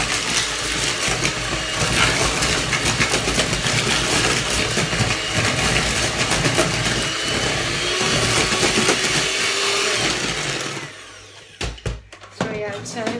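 An electric mixer whips a frothed vegan egg replacer with a loud, steady whirring drone for about eleven seconds, then cuts off, leaving a few quiet knocks.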